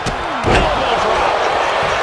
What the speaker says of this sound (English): Elbow drop.